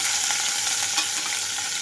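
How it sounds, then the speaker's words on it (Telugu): Tempering seeds, dried red chillies and garlic fry in hot oil for a gongura and chana dal curry, giving a steady, close, even sizzle with faint crackles throughout and no talking. "ఇక్కడ ఆయిల్ అంతా హీట్ అయిన తర్వాత తాలింపు గింజలు అలాగే ఎండుమిరపకాయలు వేసుకుంటున్నాను"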